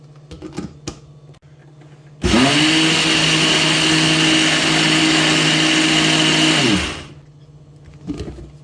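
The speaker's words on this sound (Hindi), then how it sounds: "गरम गरम ही आप कोशिश करें कि इसको ग्राइंड करें तो बहुत अच्छी तरीके से ग्राइंड होती है।" An electric grinder whirs loudly and steadily for about five seconds as it grinds roasted coriander seeds into powder, starting abruptly and winding down at the end, with faint kitchen clatter before and after.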